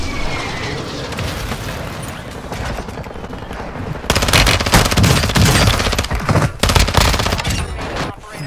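Shotgun fire in Warzone 2: after a quieter opening of low game rumble, loud close shots and heavy gunfire erupt halfway through in dense, repeated bursts that keep going to the end, with a voice briefly audible.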